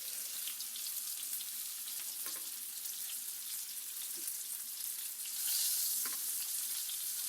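Chicken pieces for homemade KFC-style dips fry in hot oil, a steady close sizzle with a brief louder burst of spitting and splattering as a piece is turned.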